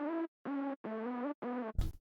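A low, octave-down hardstyle synth lead made in FL Studio plays four sustained, buzzy notes in a short phrase with brief gaps between them. It ends on a noisy burst.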